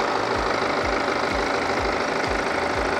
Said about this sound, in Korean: 그리고 엔진 소리 일정하고 좋습니다.